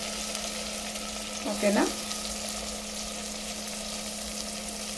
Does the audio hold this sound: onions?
yes